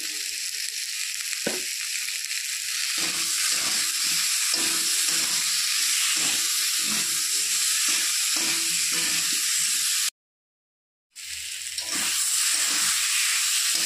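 Spice masala with boiled potatoes and salt fries in a pan for a bitter gourd dish, a loud, steady, close sizzle with faint stirring scrapes, broken by one short silent gap.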